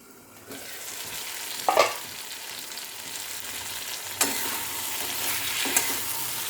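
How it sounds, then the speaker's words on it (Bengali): Spice paste for a fish curry of bata fish with prawns and potato fries slowly over low heat in a pan, a soft steady sizzle broken by a few sharp stirring scrapes, near and without talk. "এরকম করে ধীরে ধীরে করে মশলাটা ভাজা হবে, হাই হিটে করবেন না কখনো।"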